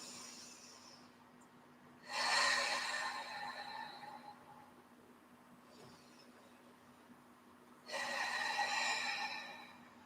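Two slow, deep, audible breaths taken during a morning stretch, each a long close airy rush that swells and fades, separated by quiet.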